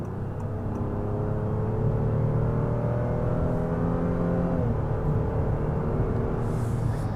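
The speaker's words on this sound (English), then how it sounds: "You can see the engine is very responsive as well as the transmission." A Honda Pilot's V6 engine pulls hard under acceleration onto a highway, a steady loud drone with rising tones that shift at a gear change, continuous road and wind noise throughout and no talking.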